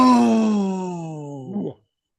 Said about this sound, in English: cover your mouth and let out a really big yawn